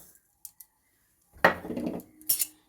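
Sugar tipped from a steel bowl into a wok for orange candy, a brief scraping clatter and granular pour of metal against metal, close and moderately loud, followed by short clinks.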